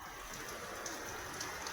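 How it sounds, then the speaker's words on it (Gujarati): Heavy rain falls outdoors in a steady, dense hiss with no breaks, quiet overall and with no voices. "એલો વરસાદ ફૂલ એકદમ ચાલુ છે."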